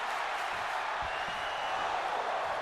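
A dense wrestling arena crowd roars steadily in WWE 2K22, a loud unbroken wash of cheering with no break.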